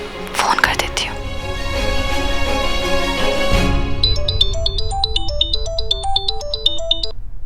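A phone ringtone plays as a call is placed, a repeating electronic melody that follows a burst of background music and continues steadily at close range.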